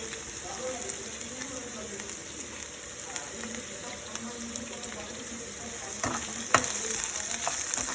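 Baby corn and onion shallow frying in a pan give off a continuous soft sizzle, with occasional scraping and stirring clicks near the end, heard close with no voices.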